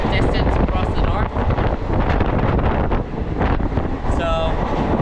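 Indian sleeper train travelling, a loud, constant roar of rolling wheels and rushing wind, with rattling and a faint squeal near the end.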